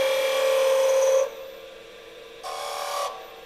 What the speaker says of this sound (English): I'll sharpen the tool.